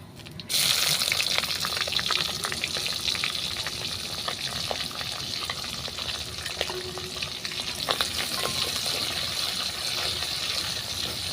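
Beef hits hot bubbling oil in a pan and sizzles loudly and continuously, a dense steady frying hiss with occasional stirring clatter.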